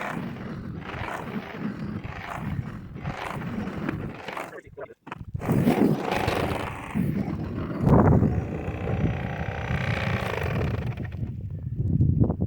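A Kobalt 40V battery snowblower clears snow during a snow and ice storm, its steady motor roar running continuously close by while someone talks over it.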